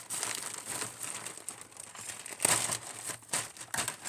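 Close, quiet crinkling and rustling of plastic packaging being handled and torn open, in irregular bursts.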